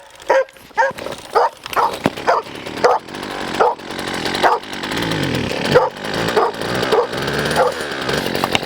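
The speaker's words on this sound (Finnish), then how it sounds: "Koirakin heräs, kun ruvetaan polttomoottoria käyttämään." A dog barks repeatedly, loud and close, in sharp bursts that later run together against the roar of a petrol-engine power tool starting up nearby.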